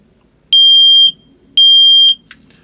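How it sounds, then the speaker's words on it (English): Touring caravan smoke alarm sounding when its test button is pressed: two loud, piercing electronic bleeps, each about half a second long, separated by a short pause, close to the microphone with faint background noise between them. "So basically that's your smoke alarm. So if you give it a press, it should bleep at you."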